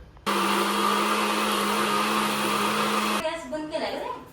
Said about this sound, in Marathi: तर आपण हे सगळं मिक्सरला लावून ह्याचा ग्रेव्ही तयार करूया.